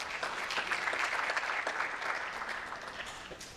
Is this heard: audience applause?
yes